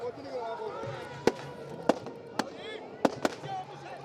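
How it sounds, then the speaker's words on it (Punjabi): Firecrackers and fireworks popping in sharp, distant bangs, five or six spread irregularly over a steady crowd murmur and voices, at an outdoor celebration with lamps and rangoli in Ludhiana. "ਆਤਿਸ਼ਬਾਜ਼ੀ ਕੀਤੀ ਜਾ ਰਹੀ ਹੈ"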